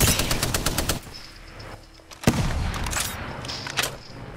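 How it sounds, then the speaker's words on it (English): Rapid automatic gunfire from Apex Legends, a video game, with bursts of dense shots and one sharp loud crack midway, followed by continued firing; no talking. "Wow, they're shooting at death boxes?"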